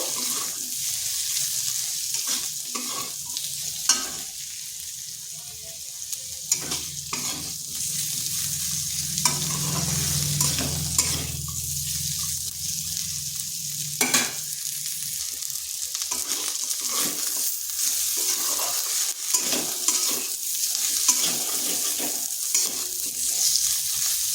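Onion and potato fry in a pan with a continuous sizzle, joined by repeated scraping stirs and a period of running water, over about twenty-four seconds.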